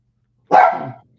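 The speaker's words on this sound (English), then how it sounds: "Keep barking at me." A single loud, close dog bark rings out once indoors, sharp and alone after a moment of silence.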